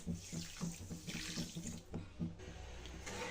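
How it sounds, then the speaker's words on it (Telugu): Half a cup of water pours steadily into a pan on a stove for sugar syrup, a soft continuous splashing with a faint pulsing rhythm, quiet and close. "హాఫ్ కప్పు వాటర్ వేసుకోవాలండి"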